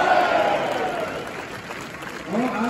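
Applause and crowd noise from a Hammarby football gathering greet a newly presented player, a steady clatter of clapping swelling again at the end.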